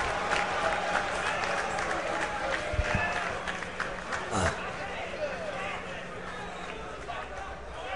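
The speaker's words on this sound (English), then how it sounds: "Clap it up for that man." Crowd at the EVO 2013 Injustice grand finals applauds the tournament champion, a sustained mass of clapping and cheering with some shouts mixed in and talk over it.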